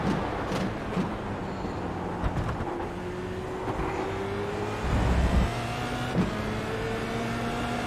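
A Formula Renault 2.0 race car on the Monza circuit in iRacing, its engine note rising and falling steadily through gear changes, with a constant drone and a few shifts.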